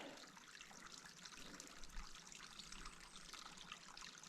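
Small mountain stream trickling through a dry, rocky landscape, a steady soft wash of flowing water that stays even and fairly quiet throughout, with no voices over it.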